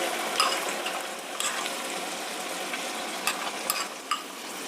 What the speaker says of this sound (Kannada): ಈರುಳ್ಳಿ ಪೇಸ್ಟು ಸ್ವಲ್ಪ ಸ್ವಲ್ಪನೇ ಹಾಕ್ತಾ ಇದ್ದೀನಿ ಒಟ್ಟಿಗೆ ಹಾಕಿದ್ರೆ ಸಿಡಿಯುತ್ತೆ